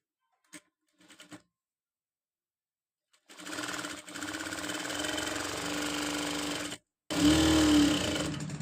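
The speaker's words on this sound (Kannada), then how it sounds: "ನೋಡ್ಕೊಂಡು ಈ ಥರ ಮಡಚಿ ಸ್ಟಿಚ್ ಮಾಡ್ಕೋಬೇಕು." A sewing machine runs in steady bursts while stitching the folded edge of a blouse, starting after a few light clicks, pausing briefly, then resuming louder and close by, with no talk.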